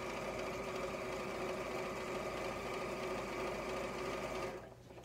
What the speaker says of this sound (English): And sew your quarter inch seam all the way on the two sides.